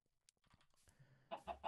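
Minecraft chickens cluck softly in a short, faint burst, with a few quiet scattered sounds first and then a cluster of louder clucks at the end.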